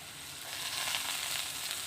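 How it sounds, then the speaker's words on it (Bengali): Carrots fry in hot oil for a rice dish, making a loud, steady, close sizzle with no voices over it. "তেল গরম হয়ে গেছে, রাইসের জন্য গাজর ভেজে নেব"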